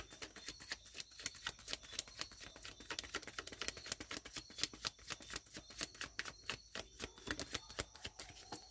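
Tarot cards shuffled by hand in a fast, steady riffle of crisp flicking snaps, close and continuous throughout with no voices.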